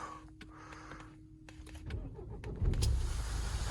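A 2015 Peugeot 308 with a 1.6 diesel engine: a faint electrical whine and clicks come first, then the engine cranks and catches into a low, steady rumble nearby.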